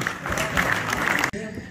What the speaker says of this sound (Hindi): आपकी भरपूर तालियों में मन्नान कदीर मन्नान